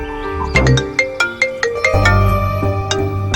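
A phone ringtone rings for an incoming call as a loud melodic electronic tune with sharp repeating notes over a sustained tone, close and alone.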